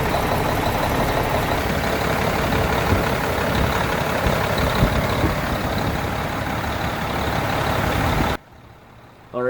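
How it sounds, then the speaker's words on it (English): An ISX truck engine runs steadily up close with a fast, light ticking from an exhaust manifold leak in its rumble, then cuts to near silence just before the end. "that ticking you're hearing is the exhaust leak at the back of the manifold"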